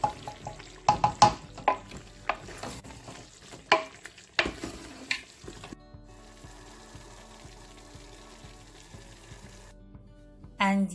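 A pot of yam porridge is stirred, with irregular spoon scrapes and clanks in the first half, then a quieter stretch carrying a soft, steady tonal hum.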